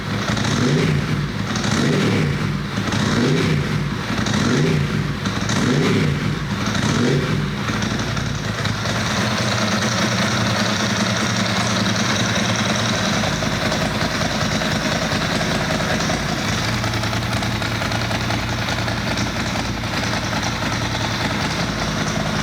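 A Ducati 996 motorcycle engine idles at around 1200 RPM after throttle body balancing, a loud, close, steady rumble with a pulsing lope early on that smooths into an even drone.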